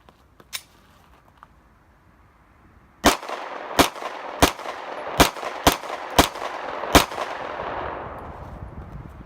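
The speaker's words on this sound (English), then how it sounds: "we're going to go ahead and shoot the 48 on the SS80 lower" Seven sharp, loud gunshots from a Glock 48 slide on an SS80 lower firing Winchester 9mm 115 grain, one faint shot early and then a rapid irregular string of six, each ending in a short echoing tail.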